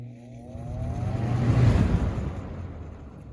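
An electric fan with swapped blades (K-223 and 3723S) spinning up on high: a rising motor whine fades into a broad whooshing rush of air that swells to a peak and then settles, close and fairly loud.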